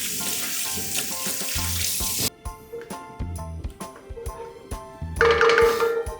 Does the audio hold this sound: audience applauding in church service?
no